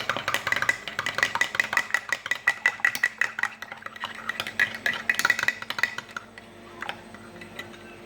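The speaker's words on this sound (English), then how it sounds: "Just you help me to stir this with a teaspoon." A teaspoon stirs golden milk in a cup, clinking repeatedly against the sides in a quick, steady rhythm for several seconds before slowing and fading, close by with no talking.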